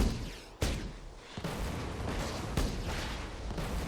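Curblaster weapon in the video game Borderlands 2 fires booming shots with secondary explosions, several heavy blasts at irregular intervals over continuous rumbling combat noise.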